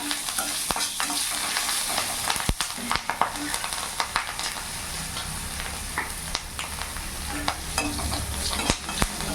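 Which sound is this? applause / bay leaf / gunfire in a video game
bay leaf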